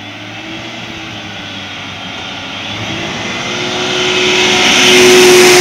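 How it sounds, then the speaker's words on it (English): A big truck approaches from behind on a road during a ride from Ghent to Oudenaarde, its broad engine and tyre roar building steadily louder over about five seconds as it draws close. "Big truck coming behind."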